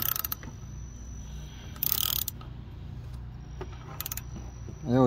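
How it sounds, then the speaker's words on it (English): Ratchet clicking as it tightens a drain or fill plug on a Toyota RAV4 during a transfer case and differential service, with a couple of short bursts of rapid metallic ticks over low workshop hum, close by. "And then you put your ratchet on."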